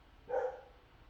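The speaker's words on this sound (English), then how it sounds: "Sorry about the barking in the background." A single short dog bark somewhere in the background, one brief muffled woof against quiet room noise.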